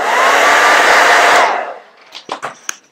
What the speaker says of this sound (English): Now let's hit this with a hairdryer.